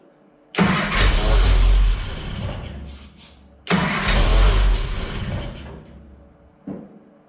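An old Classic Mini engine, unstarted for ten years, cranks and catches twice on brake cleaner, running roughly for a few seconds each time before dying, then a brief sputter at the end.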